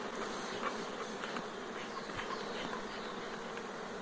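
Dense, steady drone of many honeybees working the hives on an open apiary, a continuous close buzz with individual bees whirring past now and then, no talking.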